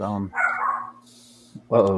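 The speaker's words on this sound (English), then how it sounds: "his dog's going off" A dog barks in a short burst, caught between stretches of someone speaking close to the microphone.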